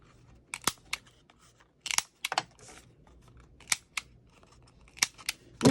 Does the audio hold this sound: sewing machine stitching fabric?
no